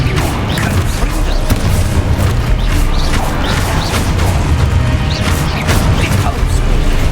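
Confringo fire spell blasts in the video game Hogwarts Legacy, a run of loud booming bursts and crackling impacts one after another over a dense battle din, with a voice shouting the spell names between hits.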